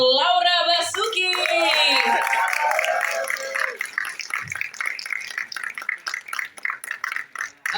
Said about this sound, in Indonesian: langsung saja kita beri tepuk tangan yang paling meriah untuk Laura Basuki